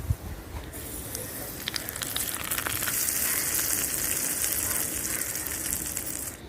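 Fried almonds and cashews in hot ghee tipped into coconut payasam, giving a loud hissing sizzle that swells and holds steady, with a faint stirring clatter near the start and no talking.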